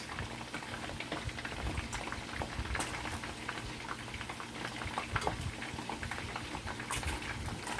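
Chicken feet frying in hot oil for Chinese dim sum, a steady close bubbling sizzle with scattered sharp pops and spatters, heard alone with no talking.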